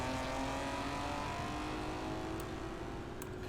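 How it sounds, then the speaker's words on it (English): Engine of a car from the Forza racing game holding a steady droning note under a broad rushing noise, the loudness easing slightly as the car drives away, with no talk. "fade this out to try to mimic that same car going further away, getting quieter effect"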